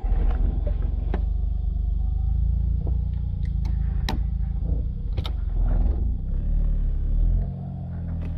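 From inside the cabin, a Suzuki Cappuccino sports car with no power steering runs with a steady low engine rumble and a few light clicks and knocks, then eases off near the end. No one speaks.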